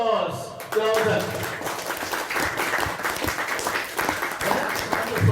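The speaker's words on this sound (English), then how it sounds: "Let us give a round of applause to ourselves." An audience at a youth leadership programme bursts into loud, close applause that carries on steadily, with voices and cheers mixed into the clapping.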